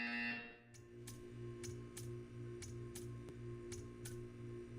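Portal 2 art-gallery buzzer in a test chamber: a short tone at the start, followed by a series of regular ticking pulses roughly every half second, faint and mechanical.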